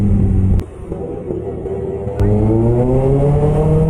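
A Kawasaki ZX6R sport motorcycle engine revs loudly and close, its pitch climbing in two strong pulls separated by a brief drop to a lower idle.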